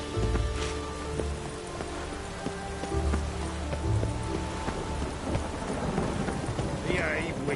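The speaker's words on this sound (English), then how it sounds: "Looked like it would rain, and here it is." Steady rain pours in the video game The Witcher 3, with rolls of thunder rumbling underneath, a dense continuous storm wash at moderate level with no talking.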